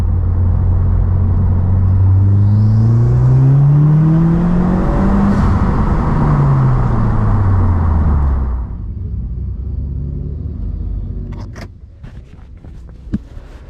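A car engine pulls at full throttle in second gear from about 2500 rpm, a loud in-cabin rising drone with climbing harmonics for about eight seconds, then the throttle lifts into a quieter rumble with a few clicks and rustles, no talking.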